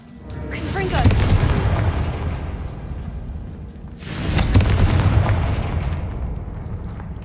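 Two booming Confringo fire spell blasts from Hogwarts Legacy, each a loud burst that rolls into a long rumbling decay, with game sound effects layered underneath and no speech.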